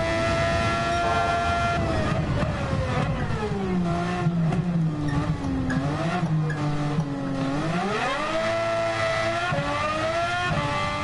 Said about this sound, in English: I love the engine of this car right now